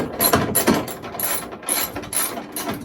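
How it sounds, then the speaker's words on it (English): A socket ratchet loosens a bolt in a crowded workshop while a planer is being set up, giving several quick bursts of sharp ratcheting clicks up close, separated by short pauses. "I can get this with a socket, so that's what we're going to go for here"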